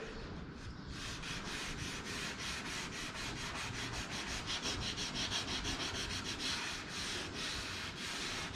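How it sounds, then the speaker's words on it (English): Steady back-and-forth wet sanding on the body of a Chevrolet Biscayne, a continuous close rubbing scrape with regular strokes, running alone throughout on a muggy, rainy day. "What I'm sanding here"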